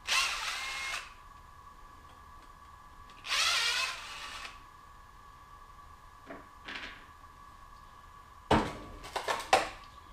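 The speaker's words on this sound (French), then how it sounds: "Pas notre torque wrench, mais notre outil électrique." Short bursts from an electric power tool working on a car A-arm bushing of metal and plastic, three separate runs of a second or so each with quiet gaps and a steady hum between them, no talk.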